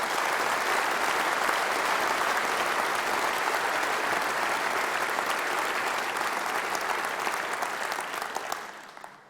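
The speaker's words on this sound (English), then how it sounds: "Ladies and gentlemen, please give them a round of applause." Sustained applause from a large audience at a Conservative Party Conference speech, steady and dense throughout, fading slightly at the end.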